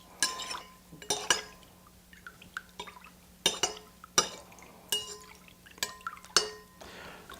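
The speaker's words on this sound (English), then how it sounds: "Now we want to stir this together" Bombay Government Punch being stirred: a spoon clinks repeatedly against glass in uneven bursts, with light liquid sloshing between the taps, close and fairly quiet.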